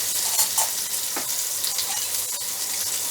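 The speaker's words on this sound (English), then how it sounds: "I have added the onion. I will let it cook for a few minutes." Onion fries in a pan, a close, bright hiss of sizzling oil with a few soft pops and stirring scrapes, no talking.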